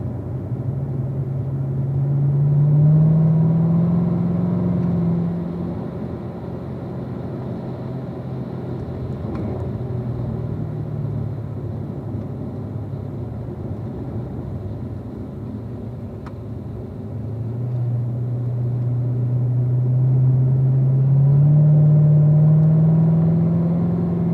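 A race car drives closely behind another car at Ron Fellows, its engine roaring loud and steady, rising and falling in pitch as it accelerates and lifts, heard from on board.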